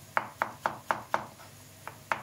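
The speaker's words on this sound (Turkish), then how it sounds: "Hızlı bir şekilde biberlerimizi doğrayıp" A knife taps sharply on a cutting board chopping peppers in a quick, even rhythm, six strokes, a brief pause, then two more, close and fairly quiet.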